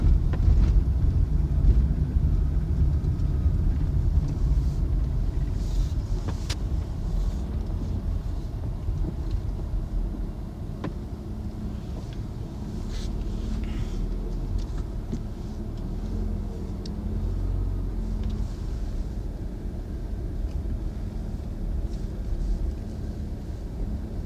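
A car is driven at a steady pace, producing a constant low engine and road rumble from inside the cabin, with faint wind noise and no clear talking.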